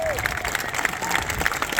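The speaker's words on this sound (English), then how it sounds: "Round of applause for the reenactment here." Steady applause from a crowd at a Battle of Tewkesbury reenactment, a medieval festival, dense clapping filling the whole stretch with scattered brighter claps on top.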